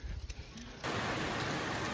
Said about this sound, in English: It started raining like 10 seconds ago and it's just dumping now